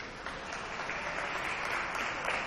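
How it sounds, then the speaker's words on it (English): Crowd in a gym at a women's college basketball game applauds an injured player being helped off the court; broad, steady clapping at moderate distance, washed into arena noise. "It's a nice round of applause."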